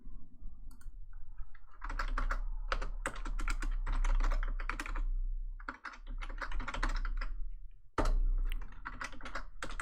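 A password is typed on a computer keyboard in rapid, close clicking bursts with short pauses between runs of keystrokes and a steady low hum underneath, with no talking.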